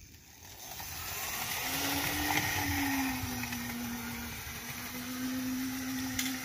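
Model railway J class locomotive running on a layout, its motor giving a steady whirring hum with a rising, sustained tone over continuous mechanical noise and no talk.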